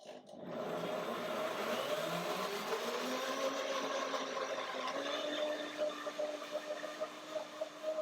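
A blender motor drones steadily for several seconds blending bananas and cashew yogurt, a buzzing mechanical hum that wavers slightly toward the end.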